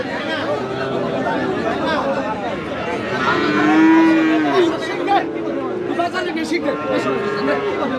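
A Friesian dairy heifer calf at a busy village cattle market gives a loud, drawn-out moo, with people chattering around it the whole time.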